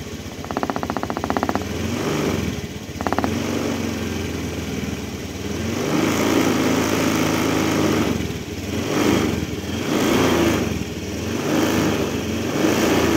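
A motorcycle engine runs steadily at close range, hooked up to an Alltitude diagnostic scanner, with a continuous mechanical drone that swells and dips slightly throughout and no talk over it.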